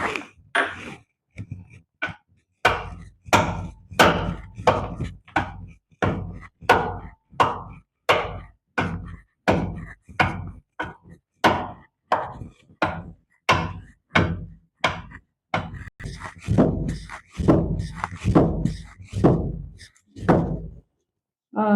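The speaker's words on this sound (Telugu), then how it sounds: "ఇప్పుడు నువ్వులు నున్నగా మెదిగాయి బెల్లం వేసుకొని దంచుకుందాం" Sesame seeds and jaggery are pounded in a steady, evenly spaced rhythm of heavy thuds, about thirty strokes, close and clear, with a little speech in between.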